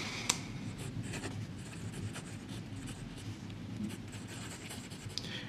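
A Parker 51 fountain pen nib scratches steadily across paper with the maker's own ink, a close, continuous dry rasp with small skips and a couple of sharper ticks, no voices.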